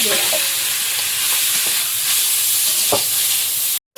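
Shrimp sizzling loudly in a hot pan, a dense steady hiss with a few sharp crackles and a brief stirring scrape before a sudden cutoff at the end.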